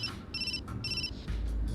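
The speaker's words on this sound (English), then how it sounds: "Ukita felt his heart leap out of his chest at the abrupt sound of a ringtone." A phone ringtone in the Root Double visual novel game rings in two bright, repeated electronic bursts over a low background hum, with a deeper rumble swelling in near the end.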